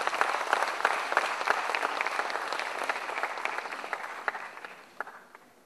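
A conference audience claps for a CEO invited on stage at a BSE and S&P Dow Jones Indices partnership announcement, a fairly soft, even patter of many hands that gradually thins out with a few last claps.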